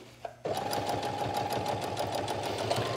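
A sewing machine topstitches fabric, starting abruptly and running at a steady fast stitching rhythm, close and clear with no talking.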